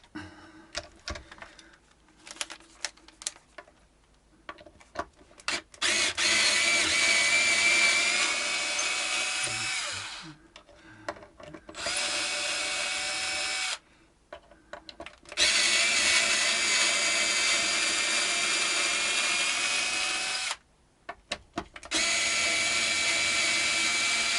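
Power screwdriver backing out the bolts that hold the neck on a Telecaster electric guitar, several loud whirring runs of a few seconds each separated by short pauses and clicks.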